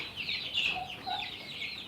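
Several chickens cluck and chatter in the background on a poultry farm, a steady mid-loud flock noise with a few brighter calls rising over it.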